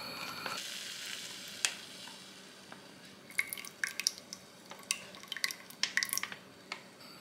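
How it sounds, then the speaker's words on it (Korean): Pulmuone domestic soybean broth heats in a pot over medium heat, giving a faint steady sizzle with soft bubbling, drips and scattered small pops that grow busier toward the end. "중불 정도에서 끓여볼게요."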